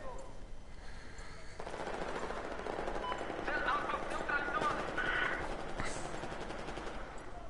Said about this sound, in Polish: Zastanawiałem się, kto to strzela.